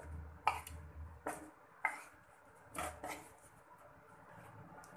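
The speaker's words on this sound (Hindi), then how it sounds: "अब हम इसमें आलू मिक्स कर देंगे।" Boiled potatoes stirred into yogurt in a pan for dahi aloo, a few soft irregular scrapes and knocks of a spoon against the pan, quiet and close, with no voices.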